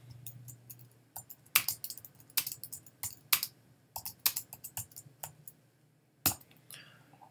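Close, quiet computer keyboard typing in irregular clusters of crisp key clicks with short pauses between bursts, alone without talking.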